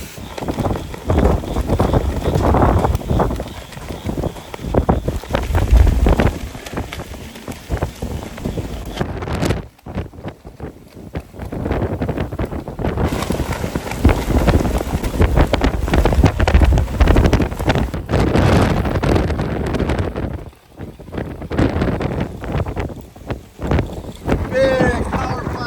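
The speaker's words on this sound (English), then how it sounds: "getting raked by strong winds and rain." Hurricane Beryl's strong wind and rain lash Sargent on the Texas Gulf Coast, a loud, continuous roar of gusts buffeting the microphone with rain noise, briefly easing twice before surging again, with a voice talking over it.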